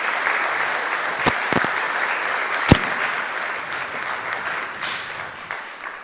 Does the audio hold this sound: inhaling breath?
no